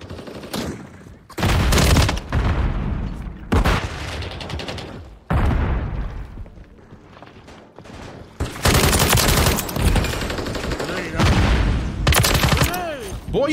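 Bursts of rapid multiplayer gunfire in Call of Duty Modern Warfare, several loud automatic volleys separated by brief pauses, with occasional speech in the gaps.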